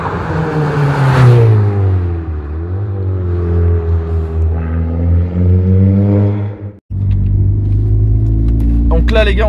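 An Audi S3 engine rumbles deep and loud with its exhaust valve open, its pitch rising and falling through revs, then cuts briefly and resumes at a steady idle-like drone.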